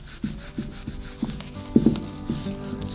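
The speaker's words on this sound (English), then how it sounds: "I'll just take a rag and just wipe it on." A rag rubs wood finish onto a dovetail box in steady back-and-forth wiping strokes, close and moderately loud, with soft rhythmic swishes and no talking.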